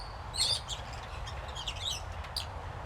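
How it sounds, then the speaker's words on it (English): Budgies in a large aviary give scattered high, bright chirps and short twittering bursts over a steady low background hum, fairly close and without speech. "look at the little budgies they have in here"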